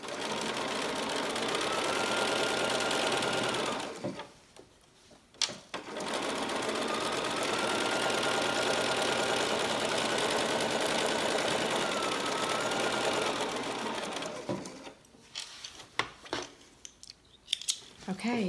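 A sewing machine stitches quilt block pieces together in two long, steady runs of rapid mechanical chatter, separated by a brief pause and followed by a few short bursts and clicks.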